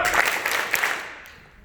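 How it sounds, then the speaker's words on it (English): A tour audience claps on cue in a quick burst of a few sharp, unison claps, with the crowd's clapping trailing off and fading to quiet by the end. "3 claps for the Fodys"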